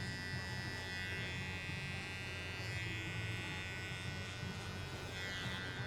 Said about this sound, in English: it's also going to take it down to the skin there as close as possible that this clipper will allow